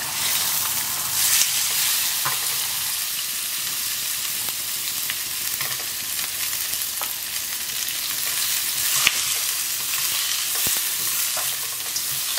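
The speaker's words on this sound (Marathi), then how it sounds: "आतां हांव घालता म्हाजे हे स्लायस केलेले ऑनियन." Sliced onions frying in a pan of butter and oil give a steady, close sizzle, broken by occasional scrapes and clicks of stirring; no voices.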